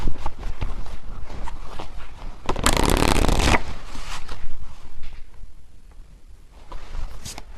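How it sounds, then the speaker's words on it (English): Tarot cards are shuffled close by in one brief, dense riffling burst midway, with softer handling and rustling before and after. "Okay, I just shuffled these and these were at the bottom."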